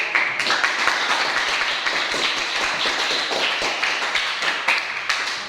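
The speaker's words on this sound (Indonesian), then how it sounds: "Oke, tepuk tangan buat diri." Students in an Islamic religious education class clap for themselves, a steady crowd of hand claps from a group in the room, moderately loud and continuous without clear pauses.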